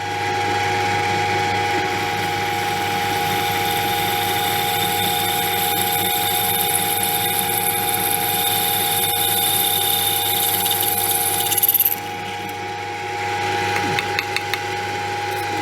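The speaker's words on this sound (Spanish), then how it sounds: "estamos taladrando una hoja de acero templada" A masonry drill bit grinding into a sheet of tempered steel, with a steady, loud mechanical whine and ratcheting rattle that runs throughout, briefly shifting in pitch near the end before resuming.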